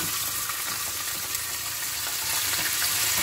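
Partly frozen minced meat (keema) fries in a pan with a steady, dense sizzle that holds evenly throughout, close and fairly loud with no talking.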